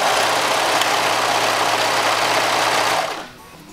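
A serger sewing machine stitches fabric in a continuous loud, rapid mechanical whir for about three seconds, then stops abruptly, leaving quiet room tone.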